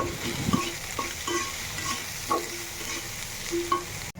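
Fish frying in a pan and being stirred and mixed in, a constant close sizzle broken by several distinct spatula scrapes against the metal.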